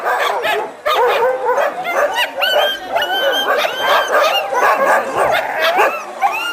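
A pack of husky sled dogs barks, yips and whines excitedly all at once, close and loud, the overlapping yelps and howls continuous and frantic north of the Arctic Circle.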